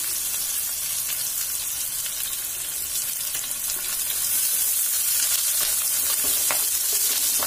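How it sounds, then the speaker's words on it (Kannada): Onion and curry leaves frying in a pan, a loud continuous hiss and crackle that swells slightly partway through, with faint stirring ticks, close and without talk. "ಕರಿಬೇವೆಲ್ಲ ಹಾಕ್ಕೊಂಡು ಸ್ವಲ್ಪ ಅದನ್ನು ಫ್ರೈ ಮಾಡ್ಕೊಂಡ್ಮೇಲೆ"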